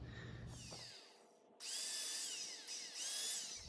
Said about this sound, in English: I've got 6 holes drilled for the 4-inch screws